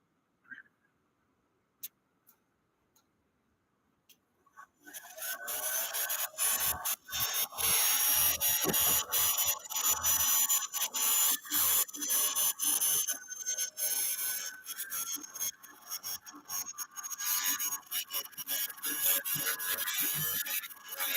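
A setting burr grinds material from the inside of an inner jewelry piece, giving a steady, loud, close rubbing and filing rasp after a few seconds of near silence, running continuously to the end.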